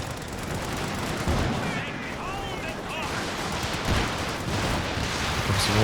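Dense rumbling barrage of rocket artillery from a walking Stuka in Company of Heroes 2, a sustained wash of booming impacts and crackling fire with a few louder bursts, under a commentator's voice.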